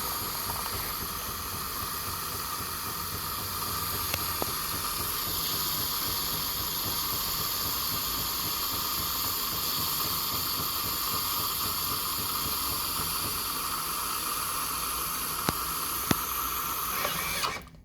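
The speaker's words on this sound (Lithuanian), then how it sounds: "Prasiplatama pieno puta." A JURA S8 Piano Black automatic coffee machine froths milk foam with a loud, steady hiss that holds unbroken for about eighteen seconds before cutting off abruptly.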